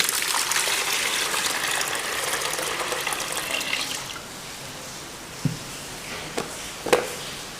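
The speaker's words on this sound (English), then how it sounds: "I'll be pouring in my water into my mixing bowl" Water is poured into a mixing bowl while making body wash, a steady close gushing stream for about four seconds, then a few separate drips and small taps.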